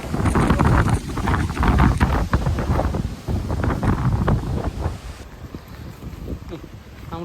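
Strong typhoon wind in Okinawa, Japan, buffets the microphone beside a shallow river, a loud, continuous gusty roar with deep rumbling pushes that ease slightly toward the end.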